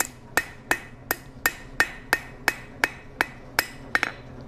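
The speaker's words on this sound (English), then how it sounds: "By planishing, all you're doing is trying to move the very surface of the steel just to smooth things out." Hammer planishing hot steel while forging an S hook, about eleven sharp metallic strikes at a steady, even rhythm, close and clear, the last two coming in quick succession.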